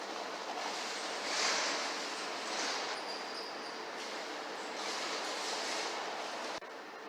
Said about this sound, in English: This is Malmo Central Station.